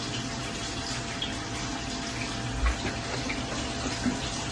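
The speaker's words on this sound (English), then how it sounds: "I'm pouring some milk in my coffee." Milk poured into a cup of coffee, heard as a steady, soft liquid trickle close by, running continuously for several seconds with no talking.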